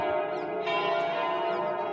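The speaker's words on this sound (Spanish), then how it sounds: "Se preguntarán por qué se escucha este sonido de campanas que no cesa." Church bells peal continuously from the bell tower of San Salvador convent in Jerusalem, a dense, loud, unbroken wash of overlapping ringing tones with no voices.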